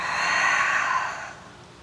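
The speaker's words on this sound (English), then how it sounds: "Exhale out the mouth." A single long exhale out through the mouth during a yoga flow from Downward Facing Dog, close and fairly loud, a breathy whoosh that tapers off after about a second, with no talking.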